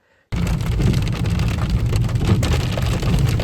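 Rain drums steadily on a car crawling slowly along waterlogged roads after a hailstorm, a dense, even hiss over a low rumble that starts abruptly and continues without pause; no one speaks.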